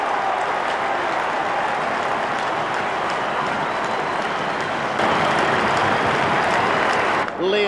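Dense, continuous roar of an AFL football crowd on its feet cheering, loud and sustained throughout, swelling further toward the end, with a commentator's voice faintly under the noise.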